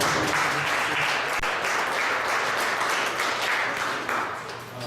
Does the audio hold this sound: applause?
yes